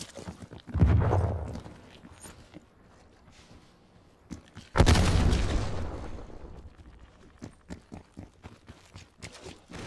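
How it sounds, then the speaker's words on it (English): Two heavy stun grenade blasts go off in a video game, about four seconds apart, each booming loudly and then fading, with lighter footsteps and scuffing sounds in between. "Stun grenade out."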